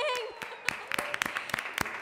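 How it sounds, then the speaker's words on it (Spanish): Children applaud on a televised quiz show, a scattered patter of claps with sharp individual hits over a continuous crowd wash, and voices talking through it. "ahí están también los chicos de Avangares aplaudiéndoles"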